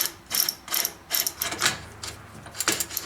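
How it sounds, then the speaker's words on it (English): A Raleigh Chopper bicycle part being screwed on, its teeth meshing in a run of close, crisp ratcheting clicks in uneven bursts, with no voices. "You have to unscrew it a little bit first, and you'll hear it click."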